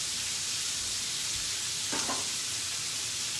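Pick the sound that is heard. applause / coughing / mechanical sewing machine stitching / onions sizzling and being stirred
onions sizzling and being stirred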